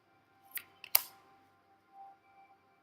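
A tarot card is drawn from the deck, heard as a few quick, close papery snaps and flicks followed by faint rustling in a quiet room.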